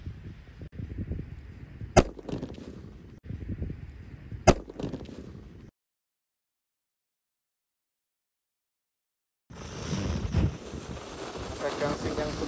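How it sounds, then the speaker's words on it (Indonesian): A colorful sweater firecracker explodes inside a hole dug in the ground, giving two sharp, loud cracks a few seconds apart over wind noise and voices. Silence follows, then rustling and wind return. "di sini ada mercon colorful sweater. Kita nyalakan juga di lubang tanah."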